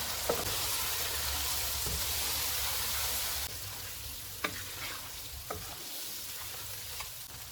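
Red chili powder, garam masala and salt fry in oil for chicken karahi, a steady loud sizzle and hiss running throughout, dropping slightly partway, with a few sharp clicks of a spoon stirring the pan.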